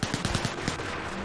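Rapid bursts of gunfire in a video game, a quick run of sharp repeated shots followed by a steadier rattling tail, loud and close with no speech.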